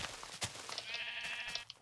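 Sheep bleating inside the Minecraft video game, a single wavering blocky bleat rising over background game noise and scattered clicks, fairly close and moderate in loudness.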